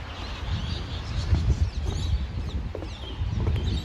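Geese calling at a bird sanctuary: scattered clucking honks, fairly faint, over a steady low rumble of outdoor background noise, with no talking.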